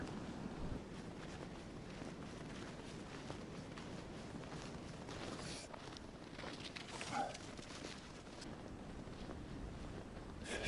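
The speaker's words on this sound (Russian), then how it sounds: "Сильный ветер заставляет постоянно крутить головой, потому что слышен треск, и то и дело деревья падают." Strong wind roars steadily through a forest on a hike, a continuous broad rushing with a few louder gusts and light rustling, and no one speaks.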